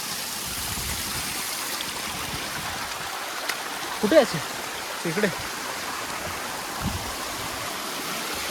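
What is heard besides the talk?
small waterfall stream near Nageshwar temple, Sahyadri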